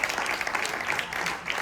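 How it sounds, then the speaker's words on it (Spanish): Applause for the Lord at a church service, a short burst of congregation clapping blended with voices. "¿Puedes darle ahora sí un aplauso al Señor?"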